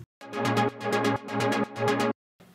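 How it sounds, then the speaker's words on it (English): Rhythmic synth chords pulse in quick gated bursts, each with a filter sweep that brightens and closes. The chords are loud, close and play alone before stopping abruptly. "I added this cutoff envelope thing so that it basically sounds like this"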